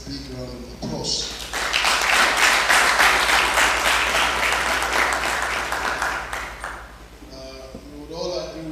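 An audience breaks into sustained applause lasting several seconds, with a speaking voice heard briefly before and after the clapping.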